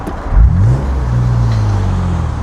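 A BMW Z3 2.8 roadster engine pulls hard through the gears on an open road, its low rising drone swelling to a loud surge and holding steady under steady road noise.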